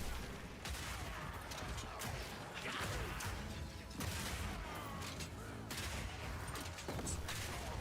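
Continuous battle rifle gunfire from Path of Exile 2, a dense, loud barrage of rapid shots and impacts with crashing, whooshing effects filling the whole stretch without pause.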